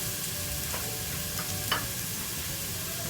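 Onion and vegetables stir-frying for chicken chowmein: a steady, close sizzle with soft scraping and stirring strokes, plus one slightly louder clatter near the end.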